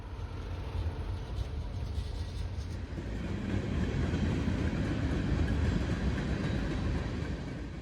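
Freight train of combined manifest cars rolling past, a steady loud rumble of wheels and cars that swells slightly in the second half and continues throughout, with no talk.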